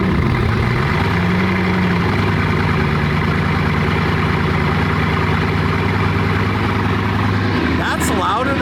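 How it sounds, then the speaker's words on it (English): McLaren Senna GTR hypercar engine cold start: a loud, sustained low-pitched roar that flares briefly and then holds a steady, heavy idle throughout, close and dominant, with a short mechanical clatter near the end. "And we're gonna get a full proper cold start."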